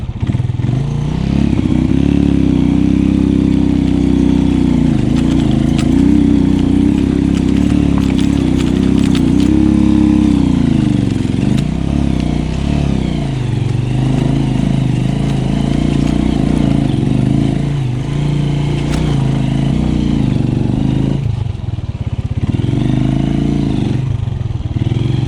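A carbureted motorcycle engine drones steadily while riding mountain roads in the Sierra Nevada near Santa Marta, Colombia, at altitude, its revs rising and easing with gear changes, loud and continuous with wind noise and no talk.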